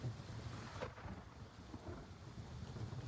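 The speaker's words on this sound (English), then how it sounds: "I love the storms in this game though." A thunderstorm in the video game Gray Zone Warfare rumbles with low thunder over steady rain, a continuous moderately loud wash that swells again at the end, with no talk.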